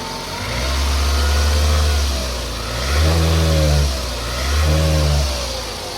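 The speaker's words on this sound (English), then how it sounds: "I'm gonna start it up now" A 2001–2005 Toyota RAV4 engine starts and runs after an oil change, a steady loud mid-pitched idle with two brief swells of revving partway through, no voices.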